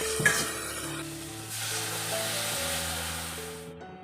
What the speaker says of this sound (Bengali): এর মধ্যে স্বাদ মতন লবণ দিয়ে ভালো করে ভেজে নিচ্ছি